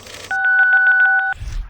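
Dial-star weapon from a Saints Row 1 mod sounding a telephone keypad tone on impact: one steady, loud electronic dual-tone beep lasting about a second, pulsing slightly, with brief game noise before and after.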